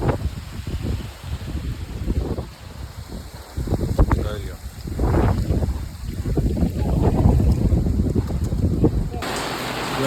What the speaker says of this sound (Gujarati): વંટોળીઓ તો બહુ જ છે